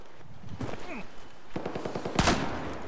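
Gunfire in Battlefield 4, a few quick bursts of automatic shots, separated by short pauses, ending in one loud, sharp close-range report.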